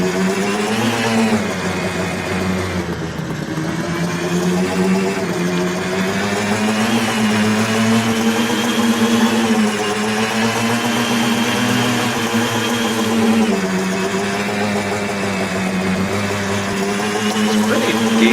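A car fitted with an aftermarket exhaust runs steadily with a droning mid-pitched engine note, rising and falling slightly in revs, close and continuous throughout.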